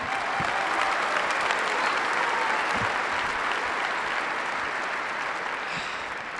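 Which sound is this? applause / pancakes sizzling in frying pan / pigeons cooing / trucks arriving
applause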